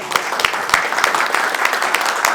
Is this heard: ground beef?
no